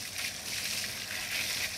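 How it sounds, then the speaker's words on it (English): Rinse water runs off a freshly washed Valais Blacknose sheep's fleece in a steady, soft, hissing trickle close by, with no voices. "much clearer water coming off the sheet"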